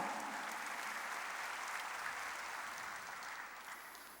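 A church congregation applauds steadily during a worship service, a dense wash of clapping from many hands that holds at an even level before easing slightly near the end, with no talk over it.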